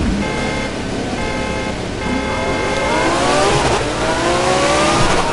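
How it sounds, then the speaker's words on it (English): Race cars in The Crew 2 drag race rev hard and scream through rising gear pulls, a loud continuous engine wail with climbing pitch sweeps and no talking. "the cars are screaming"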